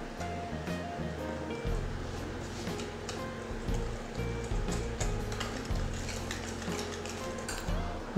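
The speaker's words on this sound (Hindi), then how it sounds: "अब इसको प्यूरी में मिक्स कर दें। अब इसको अच्छे से मिक्स कर लें।" Whipped cream stirred into mango puree for homemade ice cream, with a steady swishing scrape and light utensil clicks against the bowl over a continuous low background hum.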